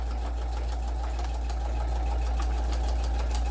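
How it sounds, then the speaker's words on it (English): A sewing machine stitches half an inch below the folded top edge of a feedsack tote, a steady close whirring hum with a fast, even needle rhythm throughout, no talking. "So I'm finishing up my stitching around the top."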